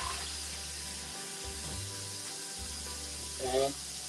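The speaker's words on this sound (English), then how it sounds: "And then we're going to rinse this off." A kitchen faucet runs cold water to rinse a raw chicken before roasting, a steady hiss with a low hum underneath and a short louder splash near the end.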